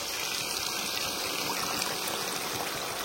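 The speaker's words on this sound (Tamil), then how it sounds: "அவங்க தேவை தண்ணி சேர்த்துக்கணும்" Water is poured steadily into tamarind curry as it cooks, making a continuous close trickling, splashing rush of liquid with no talking over it.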